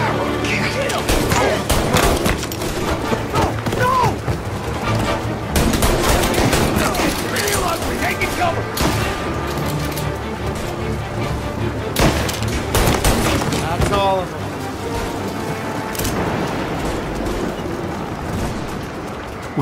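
Rapid gunfire and bursts of machine-gun fire crackle through a close-quarters shootout in Mafia Definitive Edition, loud and repeated across the whole stretch, with booms and a narrating voice woven in.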